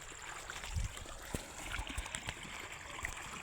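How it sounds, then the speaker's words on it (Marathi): Irrigation water flowing along a channel into a grass field outdoors, a faint steady trickle and gurgle with a few soft knocks and rustles nearby. "तर बघा मस्त पाणी चाललं आहे"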